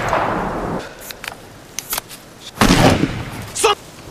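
Gunshots ring out during casual target shooting in a forest while people drink, with a few sharp separate cracks and bursts spaced over a few seconds against quiet background noise.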